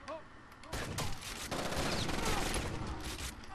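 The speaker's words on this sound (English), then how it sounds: "There's another guy in there with a shotgun." Shotgun blasts and heavy gunfire from the video game Rainbow Six Vegas 2, one sharp shot followed by a dense, loud, continuous barrage of shooting.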